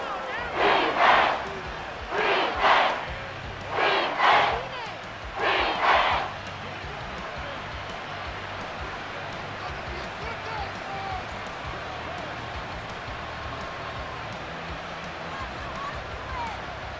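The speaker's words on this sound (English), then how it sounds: "This crowd turning up the decibel level." Football game crowd roaring in several loud surging bursts, then settling into a sustained stadium murmur with an announcer talking over it.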